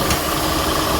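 A car engine idles steadily with its AC compressor running after a fresh refrigerant charge, a continuous close mechanical hum with a faint knocking vibration and no pauses.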